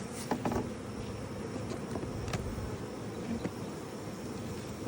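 Honey bees fan and buzz at the entrance of a hive, a dense steady drone from many insects close by, with individual bees flicking past now and then.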